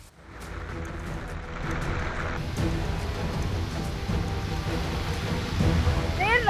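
Heavy rain pours steadily during monsoon flooding, with the Tawi river rising; a dense, continuous wash of rainfall with low rumbling that could be distant thunder, sustained and loud throughout.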